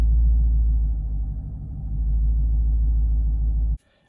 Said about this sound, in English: just lightly tap on that accelerator and kind of hold it at 800 RPM